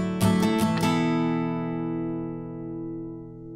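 An acoustic guitar plays a song's verse riff: four quick downstrokes on the top strings and open third and fourth strings, then a ringing D-sus-4 chord that sustains and slowly fades, close and alone.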